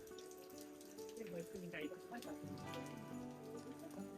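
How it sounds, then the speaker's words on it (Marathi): Water dripping and pattering inside a rock cave on Korigad fort near Lonavala, a soft rain-like spatter beneath people talking nearby. "आणि असं पाणी पडतंय कसलं भारी."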